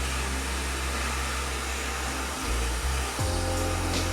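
Hot air rework tool blowing on a Vizio TV mainboard, a loud, steady broadband rush of air that stays close and constant throughout, with no talk.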